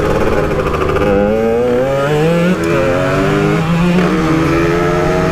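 A motorcycle engine drones loudly and steadily up close, its pitch wavering slightly as it vibrates and hums continuously without pause, with no voices over it.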